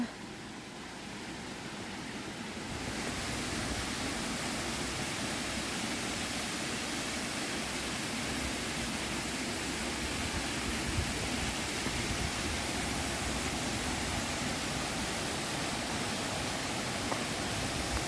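The Silver Waterfall in Sweden roars in a steady, dense rush of falling water, loud and continuous throughout, growing fuller after the first few seconds as it comes closer.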